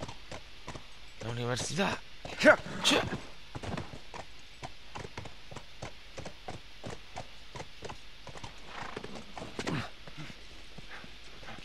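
A horse in The Last of Us clip-clops along at an even walk, the hooves soft and fairly quiet, while someone talks in Spanish over them.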